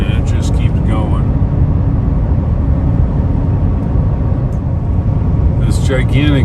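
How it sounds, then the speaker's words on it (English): A long coal train with 100-ton coal cars rolls past a Wyoming mine, a loud, unbroken low rumble and rattle lasting the whole stretch, with brief voices near the start and end. "Look at this train, and it just keeps going."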